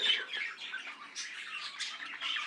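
Budgerigars in an aviary give a busy run of shrill squawks and chirps that overlap and rise and fall continuously, moderately loud and with no speech.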